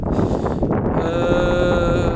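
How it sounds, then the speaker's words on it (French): Loud, steady wind buffeting the microphone with a constant roar, and a faint high tonal hum running underneath. "on est en train de se rendre compte qu'il y a vachement de vent"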